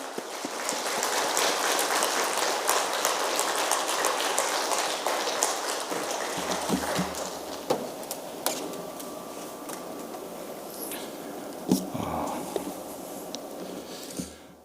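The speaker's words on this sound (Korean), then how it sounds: "우리 뜨거운 박수로 선교사님 환영하며 맞이하겠습니다" Warm applause from a church congregation welcoming a missionary at a Friday night healing service, a dense steady patter of many hands that fades into scattered claps with a few louder isolated claps near the end.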